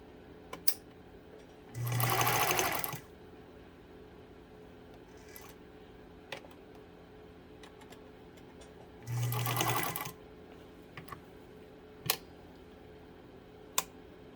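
A Pfaff 230 sewing machine sews a straight stitch in two separate bursts of about a second each, each a loud, even mechanical whir. Quiet stretches between the bursts hold a few faint clicks.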